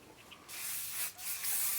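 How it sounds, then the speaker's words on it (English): Hairspray sprayed onto fine hair after backcombing the crown, heard as a close, steady aerosol hiss with a couple of short bursts, no talking. "And then spray it for the day"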